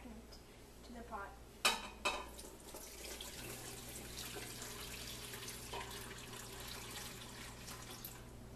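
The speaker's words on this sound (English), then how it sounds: "Then, pour the liquid back into the pot." Strained paprikash cooking liquid poured back into a pot, a steady splashing, trickling stream close by after a couple of sharp clinks of cookware at the start.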